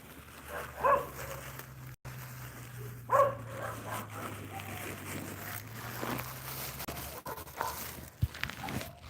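A dog on a suburban walk gives a couple of short, faint barks and soft whimpers amid quiet outdoor ambience, with a low steady hum underneath and occasional rustles.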